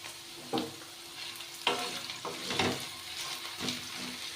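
Potatoes and curry leaves fry in a pan with a soft constant sizzle, broken by four or five sharp scraping stirs, close and fairly quiet.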